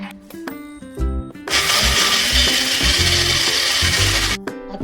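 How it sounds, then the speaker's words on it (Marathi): A kitchen mixer grinder whirs loudly as it grinds green chili, garlic, ginger and cumin into a paste, a steady roar of about three seconds with clicks and short bursts before it starts. "पहिल्यांदा मिक्सरच्या भांड्यात मिरची, लसूण, आले टाक आणि नंतर जिरे टाकून वाटण करून घे."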